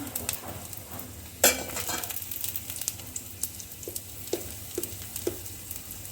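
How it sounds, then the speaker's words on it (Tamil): Cumin and black pepper spluttering in hot oil for thalai rasam, a soft continuous sizzle scattered with small pops and light clicks of a spoon, close and quiet with no talk. "இப்போ ஆயில் நல்லா காஞ்சறதுனால சீரகம் மிளகு உங்களுக்கு போட்டோன்னே பொரிஞ்சிரும்"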